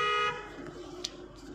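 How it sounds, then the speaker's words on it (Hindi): A short car horn toot during a driving lesson, sounding once near the start from inside the car, then giving way to a quiet cabin hum and engine noise. "हॉर्न मारिए।"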